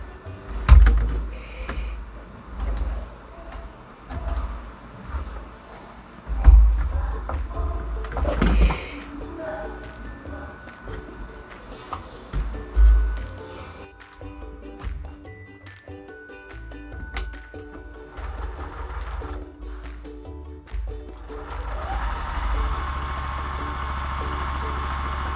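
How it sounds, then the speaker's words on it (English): A sewing machine runs a quarter-inch seam down fabric for quilted flying geese blocks, giving a mechanical whirring drive in bursts with pauses and thumps between them, close by and fairly loud. "I'm just going to give it a 1/4 inch seam down both sides"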